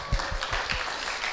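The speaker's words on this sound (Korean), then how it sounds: "그럼 우리 장봉이 혼자 박수" A single person claps several times in quick succession at a church service, a short run of sharp, fairly close hand claps.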